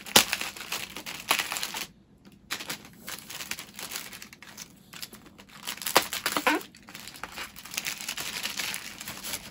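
Packing tape is peeled and pulled off a new Audio-Technica AT-LP60X record player and its styrofoam packing, giving close, irregular bursts of crackling, ripping and crinkling with brief pauses between pulls.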